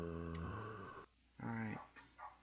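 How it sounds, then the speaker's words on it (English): A dog barks nearby, three quick harmonic barks and yips in a short burst, fairly loud and close. "my dog keeps barking and he's annoying"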